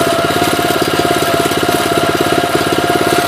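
A Manco Thunderbird minibike's 4 hp Subaru engine runs steadily up close, a smooth, even, rapid putter with a faint chain-guard rattle, loud and continuous with no talking.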